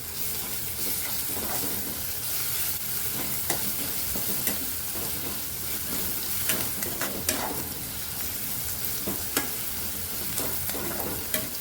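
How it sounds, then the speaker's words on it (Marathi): Ginger, garlic and green chili paste sautés in hot oil, a dense close sizzle mixed with repeated stirring scrapes and clicks of a spoon against the pan. "आलं लसूण मिरचीची पेस्ट आहे ती पण चांगली तेलावरती परतून घेते"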